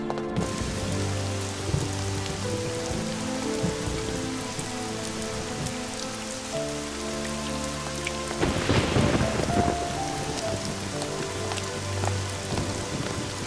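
Steady rain pours onto surfaces throughout, with a loud rumble of thunder rolling through near the middle; no one speaks.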